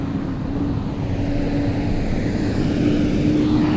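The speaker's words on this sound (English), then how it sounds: "Okay, ignore the truck sounds. Truck noises." A heavy truck passes nearby in Bali, its engine rumbling loudly and steadily, a low continuous drone with a faint hum running through it.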